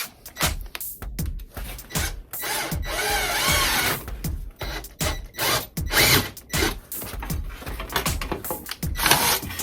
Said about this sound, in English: We'll start with a step drill.